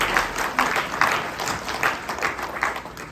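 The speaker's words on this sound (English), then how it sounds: "please give a round of applause to Playmass Montreal" Audience applause at an International Women's Day keynote address, a steady round of clapping from a crowd that swells in repeated waves for about three seconds with no talk over it.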